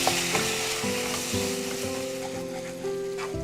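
Spiced masala with yogurt fries in a pan, a steady close sizzle with faint stirring scrapes running throughout, no voices.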